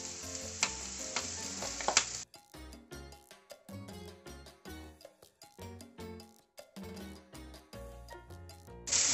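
Potato manchurian with sauce fries and sizzles in a pan, a loud close crackle with repeated stirring scrapes and clatters, and no speech.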